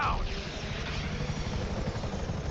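A helicopter in the video game GTA 5 hovers close by, its rotor making a steady, loud, dense drone throughout.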